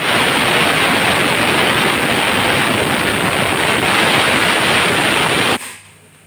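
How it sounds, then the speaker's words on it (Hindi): Steady loud hissing rush of steam escaping a pressure cooker whistle as apples soften inside with half a glass of water, continuous for several seconds before cutting off abruptly near the end. "तो ये एक सीटी लग चुका है और एक सीटी लगने दूंगी"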